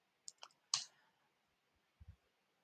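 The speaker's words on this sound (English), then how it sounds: "And I will type in the profile name here." A few sparse clicks of typing on a computer keyboard, faint and close: a short cluster of taps, then two soft thuds after a pause, in a quiet room.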